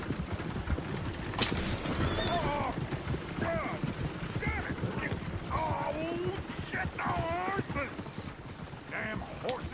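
Horse in the video game Red Dead Redemption II: steady clip-clop hoofbeats run the whole way at moderate loudness, with whinnying and bits of voices and ambient game sound layered over them.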